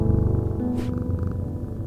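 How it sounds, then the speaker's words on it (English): A cat purrs in the video game Strange Antiquities, a steady, close rumble that runs unbroken for the whole moment over faint, low background tones. "Oh, is that a cat?"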